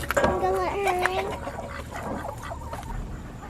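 Backyard chickens cluck and squawk loudly up close, a short agitated burst that fades into quieter movement while people talk nearby.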